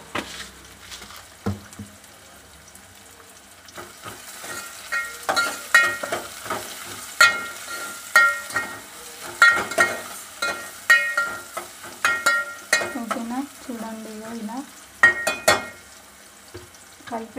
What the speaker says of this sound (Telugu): ఇందులో కొద్దిగా మనం సాల్ట్ యాడ్ చేద్దాం సాల్ట్ యాడ్ చేయడం వల్ల ఉల్లిగడ్డలు తొందరగా ఉడుకుతాయి